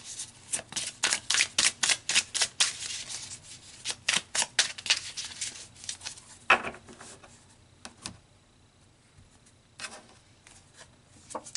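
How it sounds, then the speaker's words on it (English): Tarot cards being riffled and shuffled in a quick run of crisp, rhythmic flutters, followed by sparser soft flicks and slides as cards are pulled, close and alone. "let's pull some more cards"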